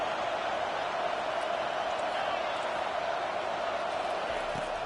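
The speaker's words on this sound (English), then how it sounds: "this crowd is fired up. Listen to this noise here." Stadium crowd in the College Football 25 video game, a steady, loud, unbroken roar of fans with no breaks or swells.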